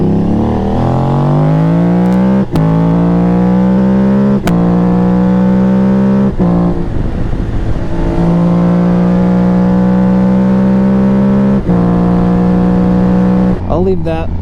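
An Aprilia Tuareg motorcycle with a stage 3 exhaust drones loudly and steadily close by, its pitch climbing and falling through several revs with sharp clicks at gear changes.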